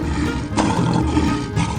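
A lion in a 3D animal video game lets out a loud, sustained roar that sits inside a dense wash of game sound throughout, with no talk over it.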